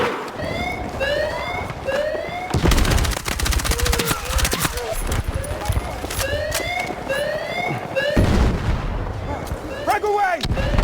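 Rapid shotgun blasts ring out in an online shooter match, mixed with other gunfire and explosions, loud and near throughout, while a rising and falling siren-like tone sweeps repeatedly in the background.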